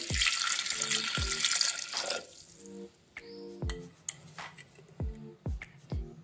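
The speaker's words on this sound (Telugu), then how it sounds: "వాటర్ వేస్తున్నాను ఇప్పుడు" A strong splashing pour of water into a cooker of potatoes for about two seconds, followed by quieter clinks, taps and a few drips close by.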